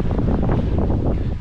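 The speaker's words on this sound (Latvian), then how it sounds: "Vējš puš, ceru, ka dzirdas." Wind gusts across a peat bog during peat harvesting, buffeting the microphone with a loud, uneven low roar that swells and eases over the short stretch.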